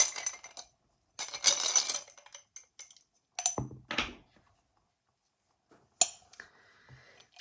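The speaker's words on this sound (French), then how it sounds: "On termine ce tirage les lions avec des petits dés." Three small dice clatter in several quick bursts during an oracle reading, bright clicky rattles separated by pauses, close up with no talking.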